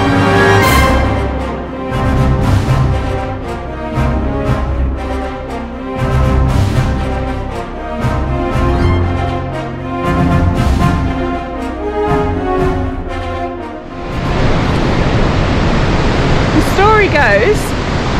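Gullfoss waterfall in Iceland roars as a steady, broad wash of rushing water, heard from the path above the falls; someone talks over it for most of the stretch before the torrent continues alone, with wind buffeting the microphone.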